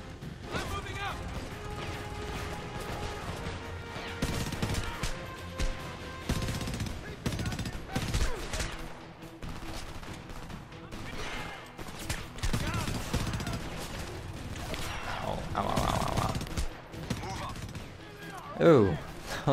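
Bursts of gunfire in the video game Homefront, rapid crackling shots and impacts scattered through a busy mix of game sounds, with someone talking over much of it.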